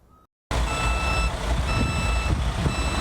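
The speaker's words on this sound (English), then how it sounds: "plow trucks backing into Wayne County's newest salt dome in Plymouth Township" Plow trucks back one after another into a county salt dome in Plymouth Township, their steady reversing beeps repeating over a loud, continuous diesel engine rumble after a brief quiet moment.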